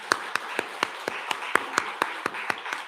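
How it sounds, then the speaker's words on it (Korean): A church congregation claps in unison during a Sunday worship service, a steady rhythmic series of about a dozen sharp hand claps at an even pace. "우리 크게 격려의 박수 하겠습니다."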